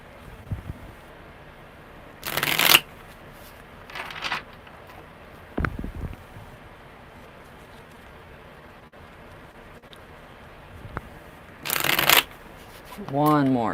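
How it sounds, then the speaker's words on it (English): A deck of tarot cards is riffled and shuffled in several short bursts of crisp fluttering rustle, separated by quieter stretches with soft handling noise and a faint low voice, the last burst ending in a slurred sweep. "These are shuffling really good today."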